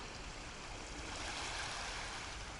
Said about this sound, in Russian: А вот и пошла волна.